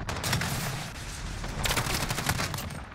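Shotgun and other gunfire in the video game Modern Warfare: several loud, sharp blasts in quick succession, up close and dominant, with a brief lull in the middle.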